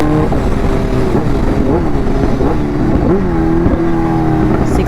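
A Kawasaki Ninja H2 supercharged motorcycle revs loudly nearby in repeated quick blips, pitch rising and falling with each twist of the throttle, around 6,000 RPM where the supercharger spools, with no talk over it.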